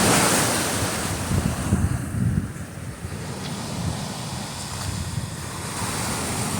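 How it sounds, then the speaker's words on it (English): Ocean waves break one after another on a shore at night, a continuous loud roar and wash of surf, with wind buffeting the microphone and no voices. "these things are one after another, shore breakers"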